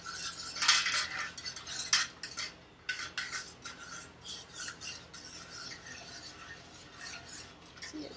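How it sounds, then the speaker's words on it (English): A utensil stirs a very black, charcoal-colored oil mixture in a container for a drawing salve, giving quiet scraping and rubbing strokes with a few sharper clinks early on and no talking. "Mixing in."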